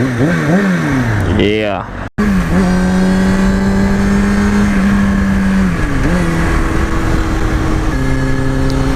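A 2005 Kawasaki ZX6R 636 sport bike engine revs and accelerates loudly up close under rushing wind, its pitch climbing, dropping briefly at a shift and then holding, while a rider speaks briefly.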